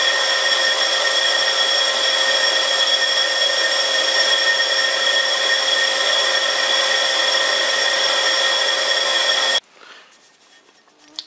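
A vintage lathe turns a worn-out chuck fitted to an old faceplate while a pointed tool bit cuts hard material, giving a steady, tonal whine with a rough edge. The sound cuts off abruptly near the end, leaving near silence.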